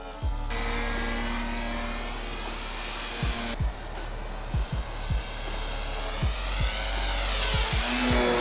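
An electric RC plane with LED lights flies circles nearby, its motor a steady droning whine that rises and falls in pitch as it passes, with repeated low thumps throughout and no voices.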